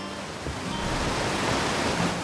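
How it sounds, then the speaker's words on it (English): A loud waterfall in the video game Outer Wilds roars as a steady, dense rush of water that fills the whole clip without pauses. "Just more loud waterfall?"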